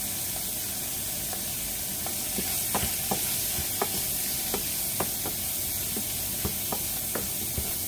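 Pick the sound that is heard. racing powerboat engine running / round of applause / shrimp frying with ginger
shrimp frying with ginger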